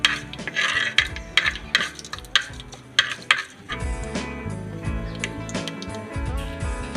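Mustard seeds and fenugreek go into hot oil for a Kerala-style fish curry, with scraping stirs and knocks against the pan, then a dense crackling and popping sizzle that keeps going.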